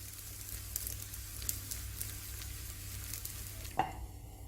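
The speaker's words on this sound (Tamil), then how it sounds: "மேலாப்பில் கொஞ்சமாக எண்ணெய் சேர்த்துக்கிறேன் நல்லெண்ணெய் நல்லாயிருக்கும்" Paniyaram batter fries quietly in sesame oil on an iron pan, a soft low sizzle with faint crackles and one sharp clink near the end, no talking.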